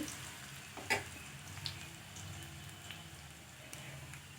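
Ginger and garlic sizzle steadily in oil in a pan with a bright, continuous hiss, and a brief utensil clack early on as they are stirred.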